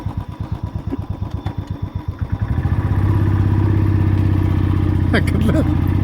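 A vehicle engine labors up a steep ghat road in low gear, chugging rhythmically before settling into a loud, steady droning strain, close up, with a few brief voices near the end.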